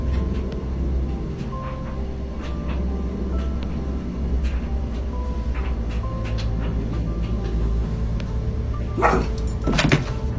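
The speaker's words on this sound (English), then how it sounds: "They heard noises in the room whilst their dog was barking" A dog barks in a dim room at home, a few sharp barks near the end above a constant low hum and scattered faint clicks and knocks.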